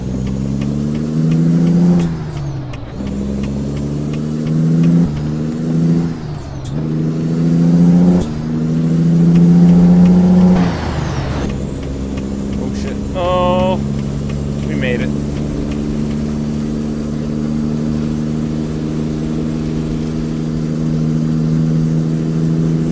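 Heavy truck engine in American Truck Simulator revving through gear changes with a rising turbo whistle, then settling into a steady drone, while someone talks over it.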